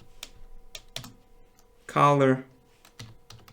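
A computer keyboard gives sparse, close clicks while CSS code is typed. A short spoken word breaks in near the middle.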